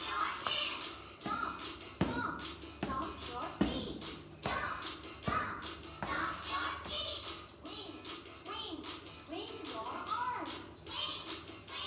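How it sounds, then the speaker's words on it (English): Children clapping their hands during a maths lesson, a series of separate sharp claps with uneven spacing, mixed with shuffling, taps and someone talking nearby. "Clap your hands."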